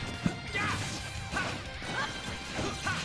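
Forward smash attacks land in a Super Smash Bros. doubles match, heard as a sharp thwack followed by several repeated impact and whoosh effects over a busy background of game sounds and crowd noise.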